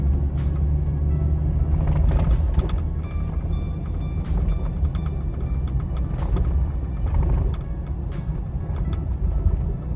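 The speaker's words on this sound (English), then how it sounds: "Truck drives really nice." A 2018 Ford F450 XLT Super Cab wrecker truck with a Holmes wheel lift rolls along at around 40 to 50 mph, giving a steady low engine and road rumble from inside the cab with light mechanical rattles and no talking.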